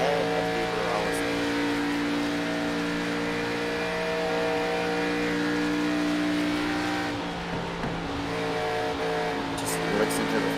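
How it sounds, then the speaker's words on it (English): A race car engine held at sustained high throttle during a NASRA ARCA playoff race, a steady loud droning roar with strong harmonic tones that dip briefly near the end before rising again. "Just listen to the throttle of Clinton Sneed doing everything he can, trying to be able to maximize that run"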